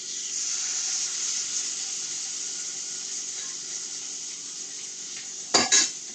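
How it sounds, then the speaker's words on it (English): Salmon searing in a skillet gives a steady, bright sizzle that holds evenly throughout, with a couple of short clinks of a utensil against the pan near the end. "So I'm going to sear it for 3 minutes on each side"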